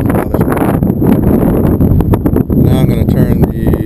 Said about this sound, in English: It's very windy, so cut the volume down if it gets bothersome.